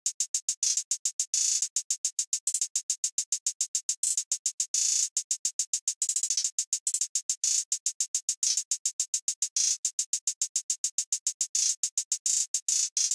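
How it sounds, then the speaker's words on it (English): Programmed hi-hat pattern from a hip-hop beat, crisp and thin with rapid, evenly spaced ticks and occasional short rolls that continue unbroken and fairly loud throughout, alone with no other drums. "the finished hi-hat pattern is sounding like this"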